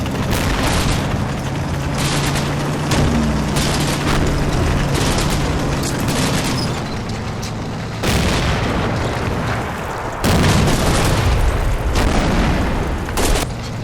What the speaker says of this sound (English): we take the opportunity to lay in some mortar fire on the enemy positions up ahead